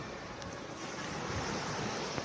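Sea waves wash onto a nearby shore in a steady, soft roar mixed with wind rumble against the microphone.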